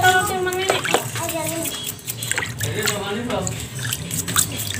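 Water splashing and dripping while motorbike brake parts from a Yamaha Mio front brake are rinsed clean, a continuous close wash with drips, with talking over it.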